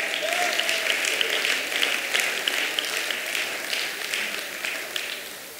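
A church congregation during Sunday school gives a hand clap for the Lord, a sustained round of many people clapping at once, moderately loud and steady and slowly tapering near the end.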